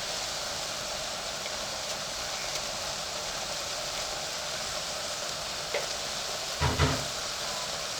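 Beef stew is mixed in a pot after salt goes in, giving a constant close hiss of simmering and frying with a few soft knocks and a brief clatter of the spoon near the end.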